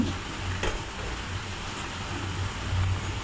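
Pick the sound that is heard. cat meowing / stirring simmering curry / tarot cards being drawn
stirring simmering curry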